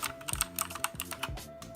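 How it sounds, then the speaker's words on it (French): Rapid clicky keystrokes on a small Gear mechanical keyboard, a dense, uneven patter of sharp taps typed continuously and heard close up, with no talking. "un petit clavier mécanique, j'adore le bruit"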